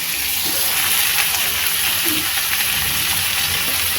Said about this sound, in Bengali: একটু ঢাকা দিয়ে এবার এটাকে ভাজবো।